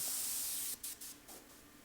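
An airbrush hisses steadily as it sprays paint onto a T-shirt, faint and close, first one long continuous burst and then several short on-off spurts.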